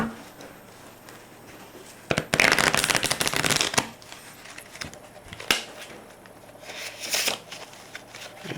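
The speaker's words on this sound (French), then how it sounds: "Déjà, vous pouvez mélanger le jeu." A deck of playing cards is shuffled during a card magic trick, giving two loud bursts of rapid riffling flutter with quieter handling sounds around them, close to the microphone.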